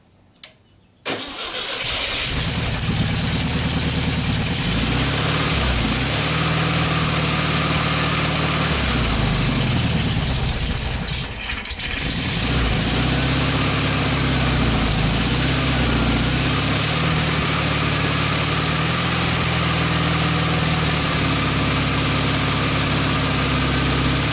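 A VW 1600 dual port engine cranks and catches, then runs loud and close, rising and falling through several throttle revs with a steady rumble between them.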